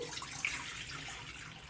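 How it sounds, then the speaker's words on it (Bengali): Water pours steadily into a wok, about a litre, a soft continuous splashing rush with no voices. "এবার আমি এই কড়াটার মধ্যে একটু জল দিয়ে দিচ্ছি"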